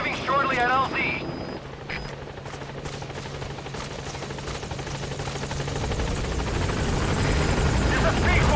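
A video game helicopter arriving at a landing zone, its rotor chop and engine roar building steadily louder toward the end after a short burst of other sound at the start.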